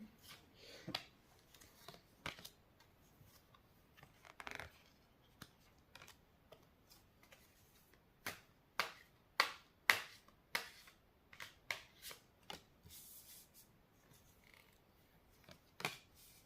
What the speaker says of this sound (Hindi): कार्ड्स निकाल लेती हूँ